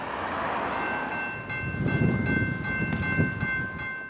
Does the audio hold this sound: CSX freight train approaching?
yes